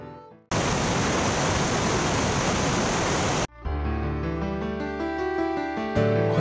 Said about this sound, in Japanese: こちらがイグアスの滝です。 とてつもなく巨大ですが、これでもまだその一部に過ぎないようです。